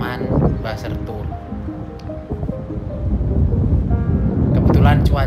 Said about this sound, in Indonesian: walaupun anginnya agak kenceng sedikit ya, keras suaranya, menderu-deru